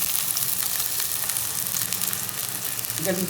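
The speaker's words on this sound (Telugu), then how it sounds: "వేసి ఆయిల్ కాగిందండి, ఉల్లిగడ్డ వేసుకుందాం" Chopped onion sizzles in hot oil in a pan while cooking chicken garelu, a steady, loud, close frying hiss that continues without a break and with no talking.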